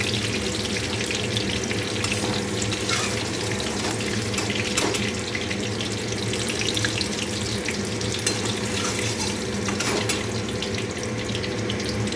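Food fries in a pan with a loud, continuous sizzling hiss that holds steady throughout, with no voices.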